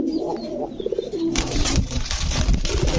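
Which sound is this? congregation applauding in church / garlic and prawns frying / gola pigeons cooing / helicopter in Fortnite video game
gola pigeons cooing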